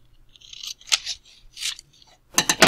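Scissors cut through paper for a set of congruent-triangle notes, giving a few separate crisp snips that end in a louder, quicker run of cuts, with no talking.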